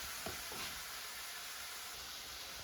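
Diced mango with red pepper flakes fries in a pan, giving a faint, steady sizzle with a couple of soft stirring scrapes near the start.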